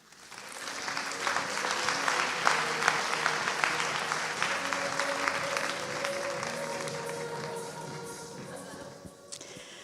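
A seated audience at an evening mentoring event applauds as a duo walks onto the stage, with a full, steady round of clapping that swells and then slowly thins out over about ten seconds.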